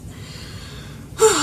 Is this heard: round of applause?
no